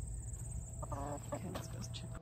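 A few soft chicken clucks over a steady low hum, close by and brief.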